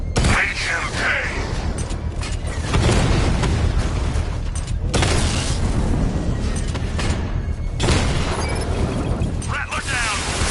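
Rattler drone tanks blow up during loud combat in Batman Arkham Knight, with deep rumbling booms and bursts over a constant roar of mechanical battle noise as voices shout over the chaos.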